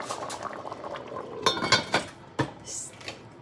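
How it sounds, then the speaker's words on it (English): Cajun jambalaya bubbling at a boil in a pot, a soft steady burble under clinks and clanks of a spoon stirring against metal. "All right, we got to bring this to a boil."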